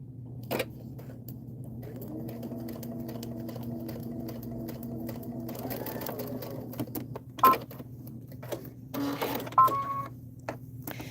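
A sewing machine stitches a seam on foundation paper-pieced fabric for jewelry, a quiet steady whirring run of several seconds followed by a few clicks and short bursts, faint and close.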